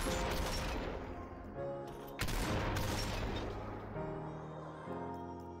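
A DT11 shotgun fires in the VR game Population: One, with a few heavy, separated blasts, each followed by a ringing, decaying tail, and quieter intervals between the shots.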